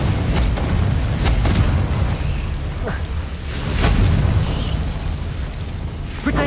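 Booming fire-blast spell explosions in the Hogwarts Legacy video game, with several dull bursts and broad rumbles rolling through a dense, continuous wash of combat noise.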